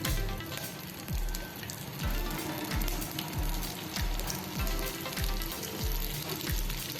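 Aloo-suji snack with sesame seeds and kalonji frying in a little oil in a pan, a steady close sizzle with soft crackles and faint regular thumps throughout.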